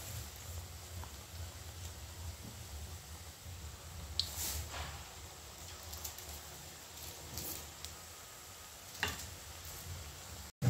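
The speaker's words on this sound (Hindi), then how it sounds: "कढ़ी बनाने के लिए मैंने जीरा डाल दिया है" Cumin seeds sizzling in hot oil left over from frying pakoras, the start of a kadhi, a steady soft crackle and hiss with a few sharper pops.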